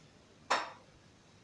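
A metal wok is set down on a kitchen stove with a single short clank, followed by quiet and the start of another knock at the very end.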